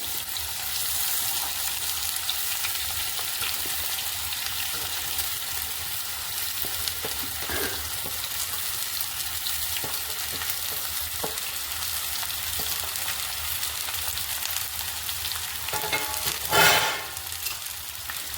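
Potatoes and cumin seeds sizzle steadily in a hot pan, a continuous bright frying hiss with occasional stirring scrapes and a louder crackle near the end, no voices.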